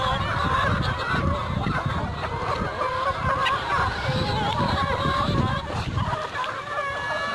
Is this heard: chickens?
yes